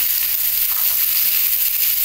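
Garlic and potato frying in a hot pan, a steady, close, bright sizzling hiss that holds evenly throughout with no talking.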